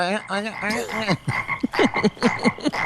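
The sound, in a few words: frog croaking, film clip from Beer Fest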